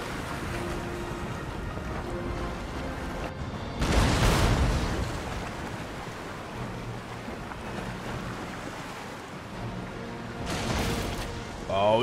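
Naval cannon fire from sailing warships in Empire: Total War, with booming volleys around four and eleven seconds over a constant rush of wind, waves and battle noise, a voice talking through much of it.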